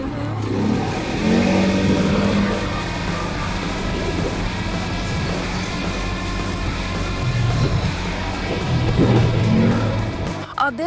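A car climbs a steep hill in low gear (L) under heavy throttle. The engine drones and revs loudly and steadily throughout, rising near the end, and occasional voices come through over it.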